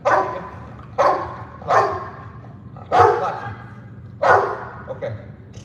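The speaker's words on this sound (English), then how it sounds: "There are dogs that would bark like this." A dog barks during decoy bitework training: five loud, sharp barks at a steady rhythm about a second apart, close by, with a softer yip near the end.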